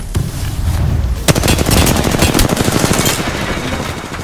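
Loud, rapid automatic gunfire from a battle in the video game Apex Legends, with sustained bursts of close shots following a sharp opening crack and no voices.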